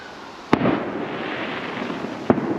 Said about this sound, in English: Fire rocket, fireworks.